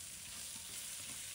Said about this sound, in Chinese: 再把煎好的苦瓜放进锅中，继续用小火慢炒